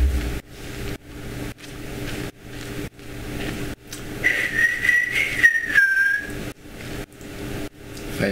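A person whistles a short wavering tune over a steady mechanical hum broken by regular rhythmic clunks.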